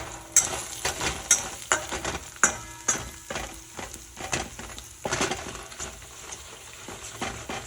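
Asafoetida sizzles in a spoonful of hot oil while a spoon stirs and knocks against the pan, producing a string of sharp clacks over a continuous close frying hiss.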